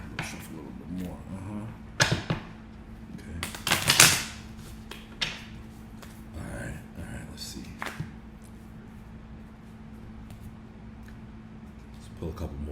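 Tarot cards shuffled by hand in short, crisp bursts, with a sharper riffling flurry near the middle, while a person talks over a low steady hum.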